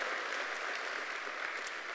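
A church congregation at a GBI Rock Pluit service claps for God, with faint, brief applause heard at a distance for a couple of seconds.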